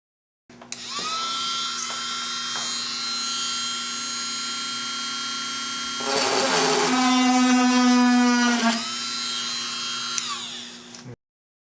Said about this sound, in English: Utilize the low speed on your drill to create an access point at the center of the brake.